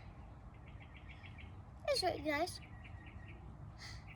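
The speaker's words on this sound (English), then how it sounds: "I can hear lots of birds" Birds chirp outdoors on a sunny, hot day in a shady spot, with faint repeated tweets in the background and a brief louder call in the middle as a person talks softly.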